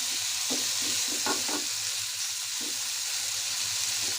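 Potatoes fry in oil with cumin seeds and green chilies, a steady bright sizzle running throughout while a spoon scrapes and stirs the pan in a few short bursts near the start and again briefly later.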